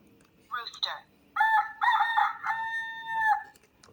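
A farm rooster crows in the morning: a short opening call, then a longer drawn-out cock-a-doodle-doo that holds steady before cutting off, loud and close with no talking.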